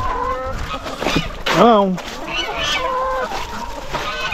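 Chickens cluck and squawk nearby at feeding time, one louder call rising over rustling and a person's brief exclamation.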